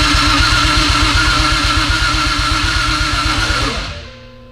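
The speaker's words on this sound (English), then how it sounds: "I'm gonna have Ant crank it." A Toyota JZX100 with a swapped 1JZ engine cranks close by with an even, rapid chugging pulse. The sound continues for a few seconds, then drops away to quiet.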